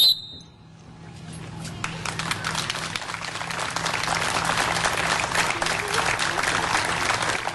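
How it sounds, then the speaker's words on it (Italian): Long applause from a gathering at a swimming pool near Venice, held in memory of a young swimmer: after a brief quieter opening, many hands clap in a sustained, building roll that stays strong to the end. "Un lungo applauso"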